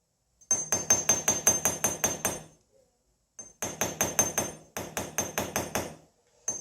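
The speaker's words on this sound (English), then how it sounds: "going back in with that pretty light hammer." A light hammer chasing a steel rose, striking metal in three quick bursts of about eight sharp, evenly spaced ringing blows each, with short silent pauses between the runs.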